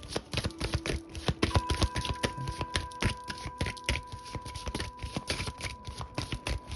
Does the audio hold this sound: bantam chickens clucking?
no